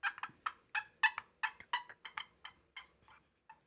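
A turkey gobbler calls in a rapid run of a dozen or so sharp gobbles and clucks, close and clear, tapering off over a few seconds with no talk.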